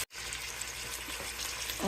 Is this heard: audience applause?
no